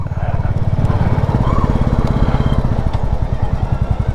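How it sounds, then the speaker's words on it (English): A Royal Enfield Classic 350 single-cylinder motorcycle rides through the Yorkshire Dales countryside, its engine giving a close, loud, steady thumping thrum with rapid even pulses throughout. "The timeless thrum of a single cylinder engine."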